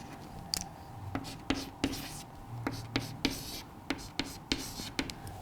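Marker or chalk strokes on a classroom board during a chemistry lesson, a steady series of sharp taps and short scratches in an irregular rhythm, close and fairly clear over a faint background hiss.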